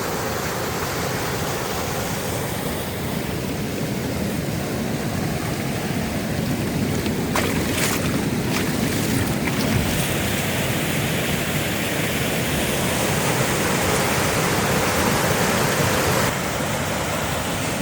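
A waterfall in Ketsch, Germany roars with a constant, dense wash of falling water, steady and fairly loud from start to finish, with no talking.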